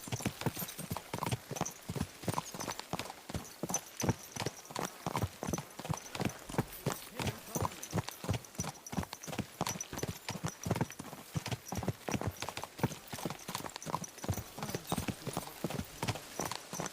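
Horse hooves clip-clop at a steady brisk pace in Kingdom Come: Deliverance II, a dense run of close, even thuds that continues throughout.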